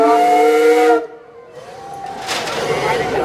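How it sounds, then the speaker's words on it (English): A lake tour boat's steam whistle blows a steady, loud harmonic blast for about a second, then cuts off, leaving hissing steam and faint background noise with a softer whistle-like tone trailing after. "We're going to say hello on our steam whistle."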